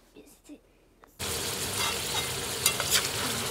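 Food hits a hot pan after a quiet moment and a few faint sounds, then a sudden, steady loud sizzle of frying that continues to the end, with a few brighter crackles.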